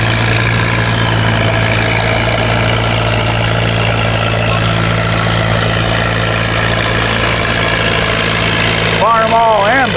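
A big tractor engine idles loudly at a county fair tractor pull in the 5,000-pound class, a steady low drone with a stable hum and a brief voice near the end.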